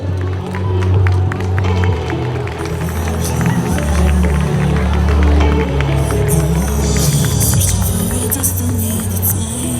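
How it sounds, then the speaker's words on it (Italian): Festival crowd applauding and cheering as a contrada takes the stage at the Palio in Paluzza, loud continuous clapping with music and amplified sound underneath. "Un grande applauso per"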